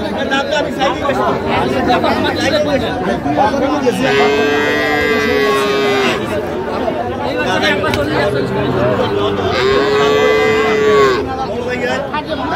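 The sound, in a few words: bull calf mooing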